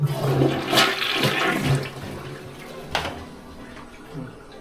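Running water from the washing function of a toilet, a steady rushing flow with a few splashing surges, close and fairly loud, with no talk over it.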